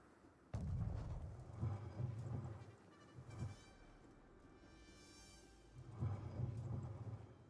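Cannon fire in the video game Conqueror's Blade: a sharp boom followed by rumbling, then a second heavy burst of low thuds a few seconds later, all fairly faint.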